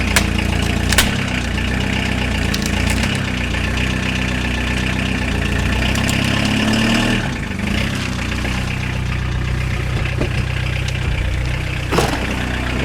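A Citroen C15 diesel, started after sitting unused for 10 years, idles roughly with a loud, steady clattering knock, a few sharp clicks and bumps breaking through the continuous engine rumble.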